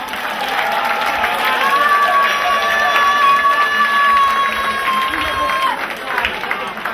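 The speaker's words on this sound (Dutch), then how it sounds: "Allereerst een geweldig applaus voor onze paalzitters voor hun prestatie." A crowd at the 2015 pole-sitting championship final applauds the pole sitters, a steady wash of clapping and cheering with a whistle rising above it.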